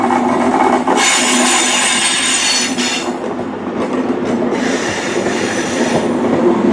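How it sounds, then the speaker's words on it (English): HST high speed train from Penzance to London Paddington passing through Saltash on a line, a loud, steady roar of wheels and rail noise close by, with clicking over the joints and a faint squeal, no talking. "coming through now is HST from Penzance to London Paddington"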